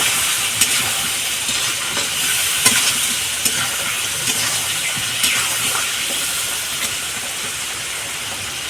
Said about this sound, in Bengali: এখন হলুদ আর লবণ দেওয়া হলো আর কুমড়োটা ভাজা হচ্ছে